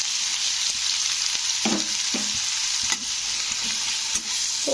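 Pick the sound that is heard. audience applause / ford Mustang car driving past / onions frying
onions frying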